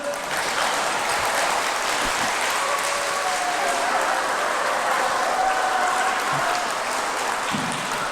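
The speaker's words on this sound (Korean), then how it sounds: "여러분 이렇게 박수 치고 있지" Applause from an audience at a prayer meeting lecture fills the space, a steady dense wash of clapping, moderately loud and continuous throughout.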